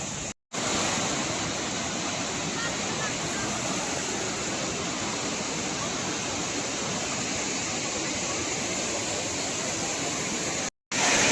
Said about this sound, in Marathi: इथं वॉटरफॉलच्या जवळ आलोय